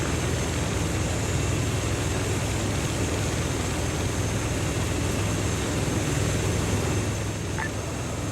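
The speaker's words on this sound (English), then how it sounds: "Two friendly helos in from the east." Two friendly helicopters approach in a military video game, heard as a loud, continuous broadband engine and rotor roar that stays steady throughout with no talk over it.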